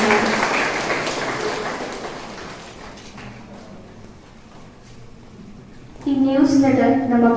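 Audience applause at a college book and newsletter release, clapping that starts loud and then fades away, followed by someone speaking.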